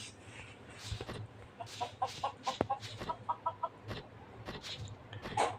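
Chickens in the video game Mini World cluck in quick repeated bursts, fairly close, with a few sharp clicks and no talking.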